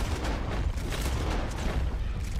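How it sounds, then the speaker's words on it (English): Sustained machine gun fire in Red Dead Online, a dense, continuous low rumble of rapid shots and booms with no pauses, loud and close throughout. "Oh, machine gun"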